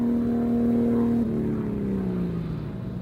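A race car runs on El Mirage dry lake at an SCTA event, its engine roaring loud and steady, then dropping in pitch as it pulls away and fades slightly.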